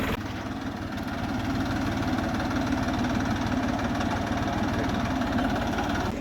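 A tractor engine runs steadily in a farm field, a loud, continuous diesel chug with a fast regular knock that holds even for the whole stretch, with no voices over it.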